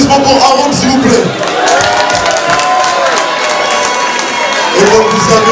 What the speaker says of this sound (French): Attendez un applaudissement pour Aaron, s'il vous plaît.